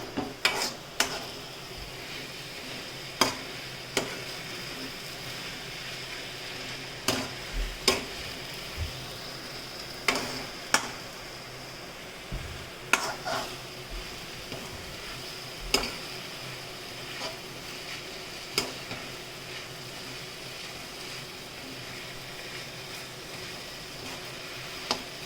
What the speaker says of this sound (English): I'm going to mix all the ingredients properly in the pan.